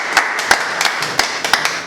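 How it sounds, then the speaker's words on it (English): A youth panel claps for itself, a few sharp separate claps scattered over two seconds, close and fairly loud, with no talking. "give yourself a round of applause."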